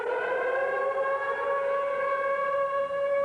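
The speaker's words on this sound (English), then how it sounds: "when that siren went off, you could feel the hairs on the back of your head stand up" A civil defense siren wails steadily and loudly during a flood, a sustained tone with no pauses and no voices.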